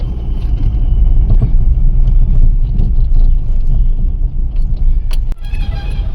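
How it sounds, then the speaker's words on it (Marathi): Cars stuck in a jammed road heading toward Mumbai on a Sunday evening, with a continuous low engine rumble of idling and creeping traffic heard close from inside a vehicle and a brief clunk near the end. "तर अशी ट्रॅफिक ही पूर्ण जाम असते"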